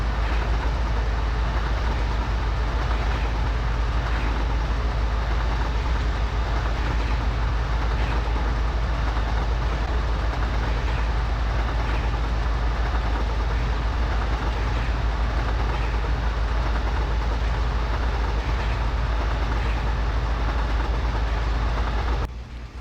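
A locomotive climbing Cajon Pass in Microsoft Train Simulator gives a loud, steady diesel drone with deep rumble and faint rail clatter, unbroken by speech throughout.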